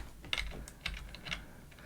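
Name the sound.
computer keyboard key presses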